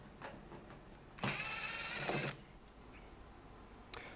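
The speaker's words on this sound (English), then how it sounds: "I'll start by removing the 10 screws" A screw being backed out of the cover of a Rheem hybrid water heater with a power driver, a single whirring burst of about a second, close and moderately loud, with faint clicks around it.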